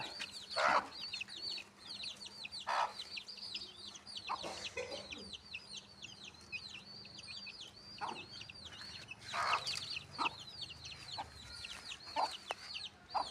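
Free-range desi chickens cluck and chatter around a home yard, a busy, continuous stream of calls with occasional louder squawks and no talking.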